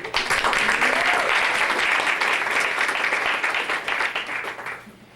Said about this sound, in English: we thank and applaud Margie Doherty for 26 years of service